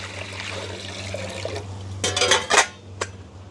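Water splashes and trickles as eggplants are rinsed, with a few clattering knocks of dishes and a low steady hum underneath.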